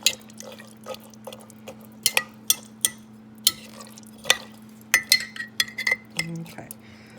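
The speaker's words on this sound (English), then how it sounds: "Stir that up." A spoon knocks and scrapes against a pot while baked beans are stirred, a series of sharp, irregular clinks and taps over a faint steady hum.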